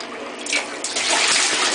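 Bathwater poured over an 8-month-old baby's hair gushes and splashes steadily and close by, swelling louder through the second half.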